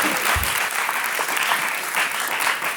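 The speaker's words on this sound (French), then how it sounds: "j'aimerais qu'on applaudisse très fort cette dame" Studio audience applause on a French television talk show, a dense, steady wash of clapping filling the room for the whole stretch, loud and continuous with no voices on top.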